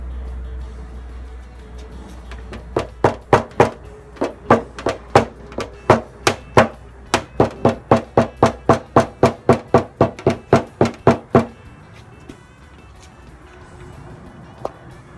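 A homemade knockdown ground from a nail punch taps out a non-standard car dent in paintless dent repair, with a rapid series of about thirty sharp, evenly spaced metallic taps followed by quiet.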